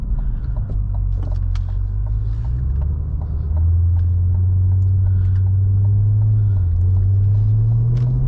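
A 662-horsepower Cadillac CT5-V Blackwing engine pulls hard in gear from inside the car, a loud, continuous low rumble that rises in pitch, drops back, and climbs again steadily.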